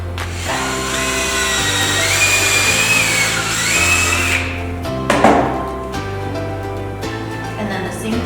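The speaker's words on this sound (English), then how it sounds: "So I'm going to pre-drill and make a spot for that to go through." A power drill whirs steadily for a few seconds, pre-drilling a screw hole, its motor pitch shifting as it bites, then stops with a clunk before spinning briefly again.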